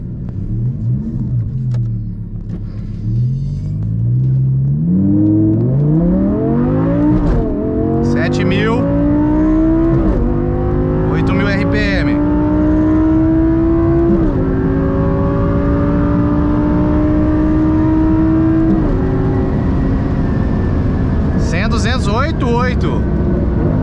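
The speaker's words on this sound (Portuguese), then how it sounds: "Lamborghini Gallardo, super ligeira, meus amigos." A Lamborghini Gallardo Superleggera with a straight-pipe exhaust revs loudly and climbs through rising engine pitch across several gear-like steps, with sharp crackles in between. Someone talks over it.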